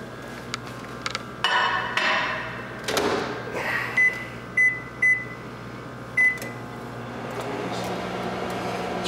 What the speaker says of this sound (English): you're gonna put it in the microwave for about 7 minutes